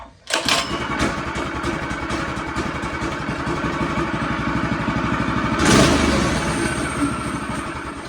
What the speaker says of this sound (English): Oh, about to turn the engine on.